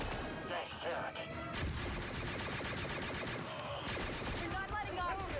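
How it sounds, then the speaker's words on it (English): In the Star Wars Outlaws video game, a thrown grenade bursts amid rapid gunfire and crashing impacts. The blasts are loud and dense, layered over game music and effects. "quick throw a grenade here"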